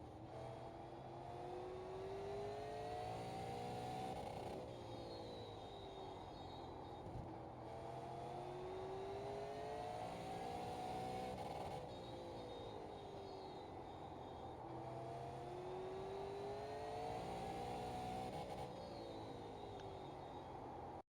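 Super late model race car engine in the iRacing sim, droning steadily and loudly with repeated rising and falling pitch sweeps as it laps a short oval, no talk over it.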